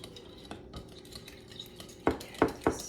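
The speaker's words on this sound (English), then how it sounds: "Give it a stir." Yogurt stirred into crab salad in a bowl with a utensil, soft scraping and mixing at close range, ending in three firmer knocks of the spoon against the bowl.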